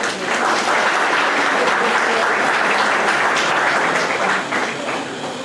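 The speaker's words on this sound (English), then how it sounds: "Kindly welcome him by the round of applause." Loud, dense applause from a university audience welcoming a guest expert at an academic event, continuous and even before easing slightly near the end.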